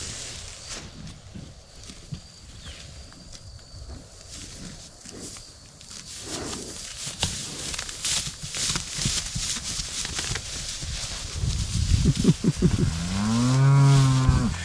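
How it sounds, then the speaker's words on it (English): Cows on pasture on a ranch moo loudly near the end, a long low bellow over outdoor rustling and footsteps. "These cows are on the new pasture"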